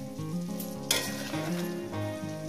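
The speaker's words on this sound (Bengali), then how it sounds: "দেখছেন আমি কিভাবে লাল লাল করে ভেজে নিচ্ছি, কিন্তু পোড়াবেন না" Radish pieces frying in hot oil give a steady, close sizzle throughout, with a brighter burst of crackle near the start and occasional faint clinks of a utensil against the pan.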